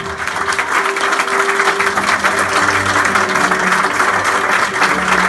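Audience applauding a newly married couple at a residence event, a dense, steady clapping that carries evenly through the whole stretch with no talk over it.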